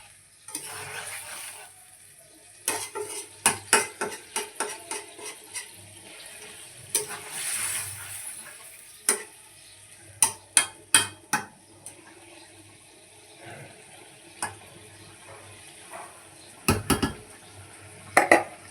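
A spoon scrapes and clinks against a metal pot in irregular bursts of stirring fish curry with potatoes, a soft bubbling simmer underneath and no talking.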